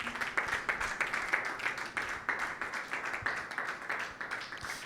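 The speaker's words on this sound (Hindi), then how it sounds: "यीशु मसीह के लिए जोरदार तालियां बजाएं" Congregation clapping hard in a church Sunday meeting, a dense steady wash of many hands applauding together for nearly five seconds, fairly loud and continuous with no talk on top.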